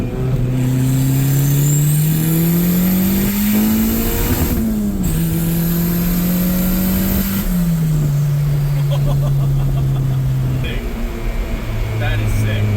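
Turbocharged Honda Civic accelerating hard through the gears, engine roaring loudly as revs climb and drop with each shift, turbo whine on top, excited voices talking over it inside the car.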